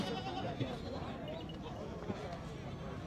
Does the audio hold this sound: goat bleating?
yes